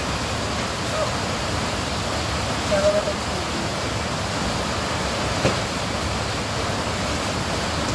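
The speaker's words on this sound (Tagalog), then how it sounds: "Grabe yung lakas ng ulan mga moms." Heavy rain pours down in a constant, dense hiss that stays even throughout, with someone speaking a few words over it.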